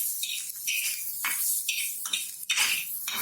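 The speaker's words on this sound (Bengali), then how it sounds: "কেটে টুকরো টুকরো করে তারপরে ভালো করে এখন তেল ছাড়াই ভেজে নিচ্ছি।" Chopped dried fish dry-fried in a pan without oil crackles and rattles with repeated scraping and clinking of a spatula on the pan, close and continuous.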